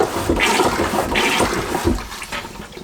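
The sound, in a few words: marine toilet pump flushing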